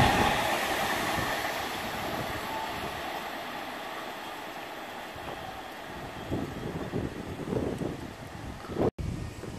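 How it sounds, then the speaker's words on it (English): A freight train passing Warnervale Station, a long continuous rumble of rail wagons rolling by with wind noise on the microphone, growing louder and rattling toward the end. "Got freight train passing."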